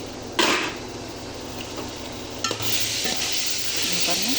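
Tomatoes sauté in a pan for biryani with a steady soft sizzle. Sharper clatters of stirring or lid contact sound near the start and middle.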